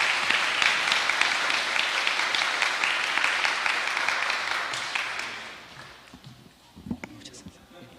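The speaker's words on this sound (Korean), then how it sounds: "박수로 환영해 주시기 바랍니다" A church congregation claps warmly to welcome a deacon coming forward to give his testimony, dense sustained applause that fades out over several seconds, leaving a quieter room with a few stray sounds.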